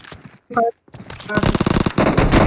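Bursts of rapid automatic gunfire from a battle royale video game rattle loudly and close. A brief tonal sound comes before them, then sustained rattling volleys fill the rest.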